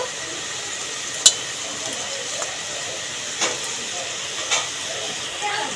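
Maan kochu (giant taro) pakoras fry in hot oil with a faint, steady hiss, broken by a few soft pops and clicks, and no speech.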